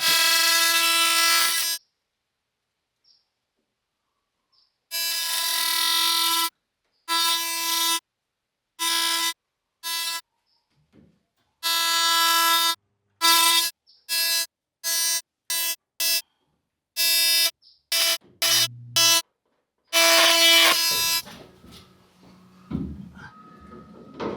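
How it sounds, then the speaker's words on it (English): PVC is cut by hand with a saw. The strokes come as loud, squealing, tonal bursts of uneven length separated by silent pauses, and the section ends with faint handling clatter. "Now begins horrible PVC hacking."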